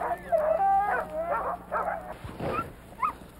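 Sled dog team barking and yipping in excited bursts, close by, with repeated sharp yelps and a short whine.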